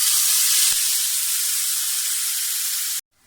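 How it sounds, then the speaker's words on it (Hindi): Tomatoes hit hot oil in a pan where garlic was just fried, giving a loud, steady hiss of sizzling frying that cuts off abruptly near the end. "इसी ऑयल में मैं टमाटर डाल दूंगी।"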